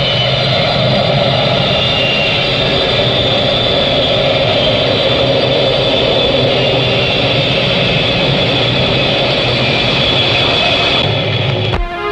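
A fixed-wing airplane's engines roar loudly and steadily at close range as the flight departs, a dense continuous drone that holds for the whole stretch before briefly shifting at the very end.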